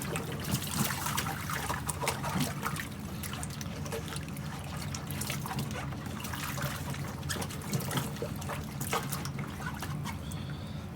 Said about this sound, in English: Just gonna give them a good old sloshing.